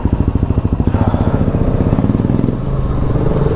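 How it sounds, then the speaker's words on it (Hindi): A group of motorcycles including an Apache, Royal Enfield, Xpulse and Duke idling together on a Sunday morning ride in Uttarakhand, a loud close, steady pulsing engine rumble with fast regular thumps throughout. "सारे राइडर्स यहां पर पे देखे, अपाचे, रॉयल एनफील्ड है, एक्सप्रेस और ड्यूक"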